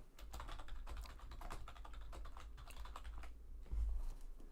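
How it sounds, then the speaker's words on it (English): Typing on a computer keyboard, with a steady patter of key clicks running continuously at close range and no voices. "Keyboard ASMR."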